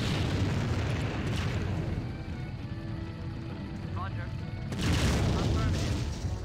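Artillery shells pound an enemy fortress in the real-time strategy game Empire Earth, with steady battle rumble and a sharp, loud burst of explosions near the end, while a voice may be speaking over it.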